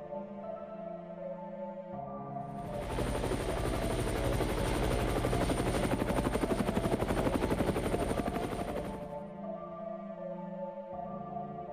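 A helicopter's rapid rotor thumping swells in over a few seconds, stays loud and close, then cuts away, leaving a faint background hum.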